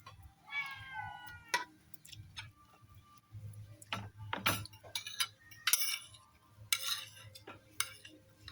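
A cat gives a clear meow near the start, followed by scattered clinks, ticks and light clatter of dishes or cutlery in a quiet indoor space, with faint low background hum.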